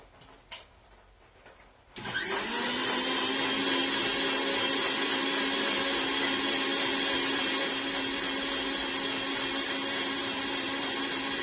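A mixer grinder switches on after a couple of seconds of quiet handling and blends passion fruit, sugar and cold water with a loud, steady, whirring roar that continues to the end.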